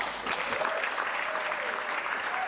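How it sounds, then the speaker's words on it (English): A comedy club crowd at the Babel Bar cheers and applauds steadily to welcome a comedian on stage, a dense, continuous wash of clapping with a few whoops rising above it. "Can we please give a huge cheer and a massive welcome to Sam X."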